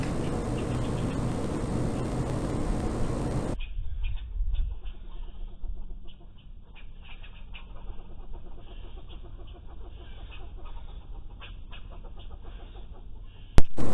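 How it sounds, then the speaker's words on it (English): Scattered bird chirps and clucking calls at a cat nearby, over a steady outdoor background, moderately faint, with a louder noisy stretch at the start. "You can hear the birds chirping because they want that cat out of there."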